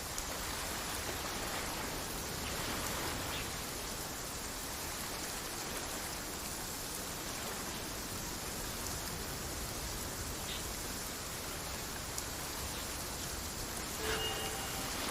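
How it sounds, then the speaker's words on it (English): Steady rain falls in an even, moderately quiet hiss throughout, a dense patter of drops with no talk and no breaks. "Let us find shelter from the rain."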